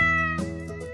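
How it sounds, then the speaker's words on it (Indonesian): A soft kitten meow rises over a steady harmonic musical background, one brief mewing call heard fairly close in the middle of the clip, with a faint second cry near the end. "mereka mendengar suara miau lembut"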